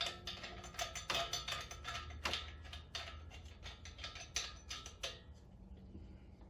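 A propane regulator is threaded onto the tank for a Predator 9000 watt generator conversion: a run of quick metallic clicks and ratcheting scrapes, close and fairly quiet, with no talk.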